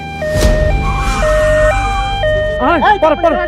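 A wailing emergency siren stepping between two pitches, loud and close, followed by bursts of overlapping voices near the end.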